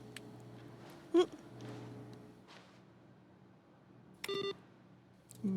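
Keypad beeps from a door code panel in The Stanley Parable Ultra Deluxe video game, a few short electronic tones spaced apart over a faint background hum, clear and close with no talk.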